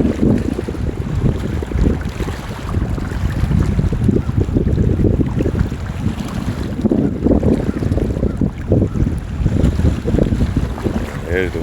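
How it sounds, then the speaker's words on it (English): Strong wind gusts over a river during crappie fishing from a boat, a loud continuous roar and buffeting against the microphone with rough low rumble throughout. "There's the wind picking up"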